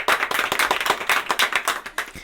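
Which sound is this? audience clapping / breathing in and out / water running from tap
audience clapping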